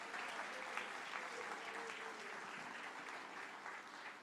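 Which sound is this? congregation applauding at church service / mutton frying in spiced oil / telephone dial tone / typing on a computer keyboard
congregation applauding at church service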